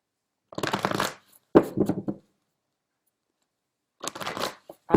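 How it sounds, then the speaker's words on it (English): Tarot cards being shuffled by hand, heard close up as bursts of riffling flutter in three separate runs with quiet pauses between, the cards slipping loosely and spilling from the hands. "Oh, the cards are falling out of my hands."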